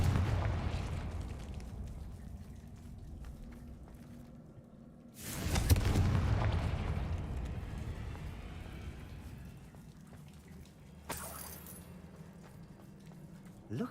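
A Confringo explosive spell goes off in Hogwarts Legacy: one loud, sudden blast midway that booms and then rumbles away over a steady low drone of game ambience.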